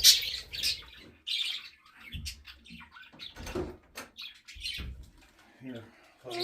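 Pet budgies chirp and squawk during bath time, bright repeated calls scattered across the clip with splashing water and nearby voices talking over them.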